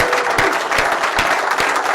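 Audience clapping at a BSides Cleveland security conference keynote, dense steady applause from a crowd in a hall with sharp individual claps standing out, no voices over it.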